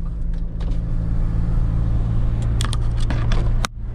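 A remapped manual car's engine drones low and steady as it pulls through the gears, loud and close, with a few rattling clicks near the end before the engine note drops off abruptly.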